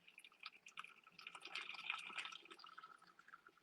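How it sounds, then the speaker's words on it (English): Hot water trickling and splashing into a 5 litre jug while setting up for home brewing, faint and uneven, with gurgling pulses and no talk. "So I've got my 5 litre jug. Just going to put some hot water in there."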